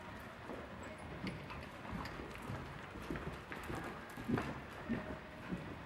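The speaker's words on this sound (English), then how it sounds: "And when you're ready, left lead canter." A horse cantering on the left lead during a group riding lesson, with a soft, steady rhythmic drum of hoofbeats on arena footing, fairly faint and muffled against a low background.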